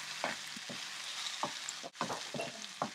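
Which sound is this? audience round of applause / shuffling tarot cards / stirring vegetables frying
stirring vegetables frying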